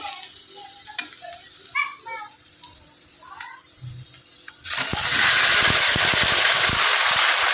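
Meat going into a pan of onions already fried deep red, bursting into a loud, steady sizzle partway through after a quieter stretch with faint chirping sounds.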